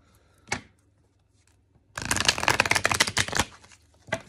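A handmade deck of cards being shuffled: a brief riffle near the start, then a dense two-second burst of crisp flicking and snapping cards, close and clear, with no talk.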